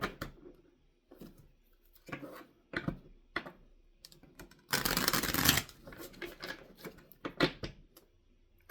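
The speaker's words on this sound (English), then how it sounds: "Cards bend, by the way, and they're not always so easy to shuffle in the same direction all the time." Tarot cards being shuffled by hand, a series of short riffling and snapping bursts with one long, loud riffle in the middle, close and alone with no talk.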